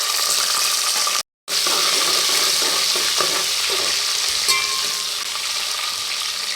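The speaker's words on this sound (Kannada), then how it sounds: "ಹಸಿರು ಮೆಣಸಿನ್ಕಾಯಿನ ಚೆನ್ನಾಗಿ ಬಾಡಿಸ್ಕೋಬೇಕು" Green chillies sautéing with mustard seeds and cumin in hot oil for a pumpkin stir-fry, a steady close crackling sizzle with stirring scrapes, briefly cut silent once, then sizzling on evenly.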